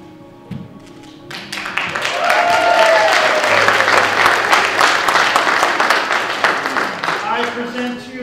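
Wedding guests at a ceremony break into loud, sustained applause right after the bride and groom kiss, clapping swelling quickly and holding steady, with a few voices mixed in.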